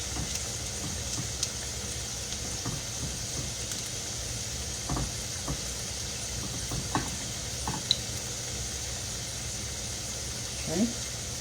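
Cornmeal-coated fish frying two at a time in hot oil gives a steady, fairly quiet sizzle that holds throughout, with a few soft clicks and knocks on top.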